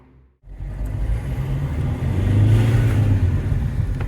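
Alfa Romeo 159 engine on a test drive after EGR valve removal and cleaning, a steady low rumble that starts after a brief quiet moment and swells slightly as the car accelerates, close and continuous.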